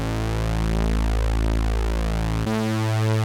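A Prophet Pro 3 synth bass patch plays a sustained low note, its two detuned oscillators against a third on pitch giving a thick, slowly beating tone before it switches to a brighter buzz.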